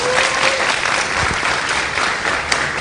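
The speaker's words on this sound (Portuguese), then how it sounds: "Senhoras e senhores, uma salva de palmas para Hélio de la Penha." A studio audience applauds steadily and at full volume, a thick wash of claps with no pause, welcoming the comedian Hélio de la Penha onto the stage.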